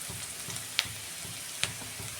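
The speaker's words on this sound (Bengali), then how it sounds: "পেঁয়াজটা আমি লাল লাল করে একটু ভেজে নেবো 2 মিনিট" Chopped onions frying in oil for a fish curry, a faint steady sizzle with two sharp ticks or pops, close and quiet, with no voices.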